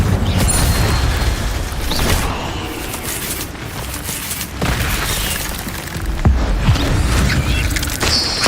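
Incendio fire spell cast in Hogwarts Legacy, heard as a dense, rumbling burst of whooshing flames and thuds with several sharp impacts over a noisy background.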